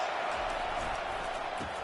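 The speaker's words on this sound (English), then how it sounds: "This crowd bringing the energy and noise early." A college football stadium crowd at a Michigan Wolverines versus Oklahoma game sends up a dense, steady roar that fills the clip, heard from a distance without any break.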